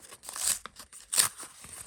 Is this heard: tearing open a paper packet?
yes